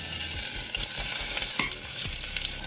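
Sliced red onions hit hot olive oil in a pan and hiss in a dense, continuous sizzle. A few soft knocks from stirring come through, close by and without any voices.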